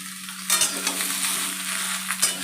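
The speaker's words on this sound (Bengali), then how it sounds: "খুব ভালোভাবে আমি এটা নাড়াচাড়া করে নেব।" A hilsa fish head curry with pointed gourd, ridge gourd, spiny gourd, pumpkin and potato frying in a pan, a steady close sizzle broken by a few scraping stirs of a spatula.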